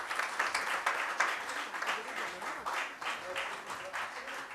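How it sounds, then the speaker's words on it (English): Sustained audience clapping at a CSR award ceremony, a dense even wash of many hands continuing for several seconds without pause, with a faint voice murmuring underneath. "Keep clapping, everyone."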